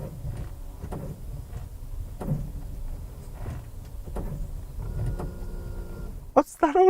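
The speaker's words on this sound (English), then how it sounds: "Then you get that drilling sound." A Toyota car gives off a repeating mechanical drilling-like buzz in steady pulses about every half second, with low rumble beneath. It ends in a brief, sharper whining tone.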